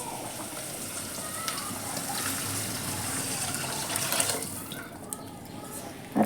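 Water is poured into a cooking pot for broken rice, making a steady gushing, splashing flow at moderate volume for several seconds, with faint talk underneath.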